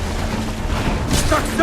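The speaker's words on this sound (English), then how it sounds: "The blast has torn the rope!" Cannon blast from a naval battle in Assassin's Creed IV, a loud booming burst with crackling debris over constant battle noise and a man calling out.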